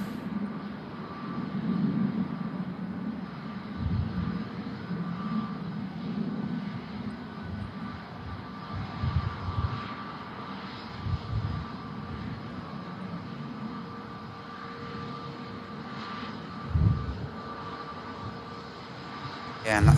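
A KLM airliner moves at Manchester Airport, a distant low engine rumble that swells and fades over several seconds, with faint background voices intermittently present.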